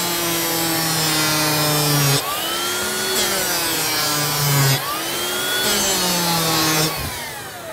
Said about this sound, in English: So now I'm going to sand just a small amount of this.